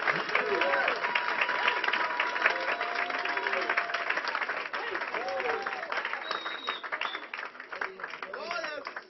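A congregation applauds continuously, a dense wash of clapping that fades slightly toward the end, with voices mixed in.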